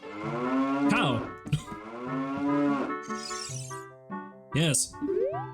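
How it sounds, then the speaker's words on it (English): A cow in The Legend of Zelda: Ocarina of Time gives loud, drawn-out moos; two or three long tonal calls are joined by a short sharp game chime near the end, with no talk over them. "Cow!"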